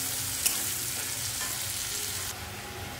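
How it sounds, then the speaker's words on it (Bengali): Chopped onion sizzles steadily in a hot pan, a dense, even crackle at moderate level with a brief sharper hiss near the start. The frying continues without pause, and no one speaks. "পেঁয়াজটাকে একটু লাল লাল করে ভেজে নেব।"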